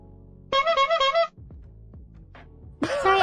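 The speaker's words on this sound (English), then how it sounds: "but it was a clown horn instead" A comedic clown horn sound effect honks loudly in two bright, buzzy bursts, separated by quieter clicks and faint background noise.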